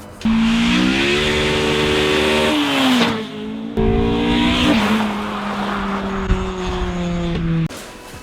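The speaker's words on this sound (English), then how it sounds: "I think I'll insert a little clip of a flyby that might have been at the start" A track day car driving past, its engine droning loud with pitch sweeps as it revs through gears, then cutting abruptly near the end.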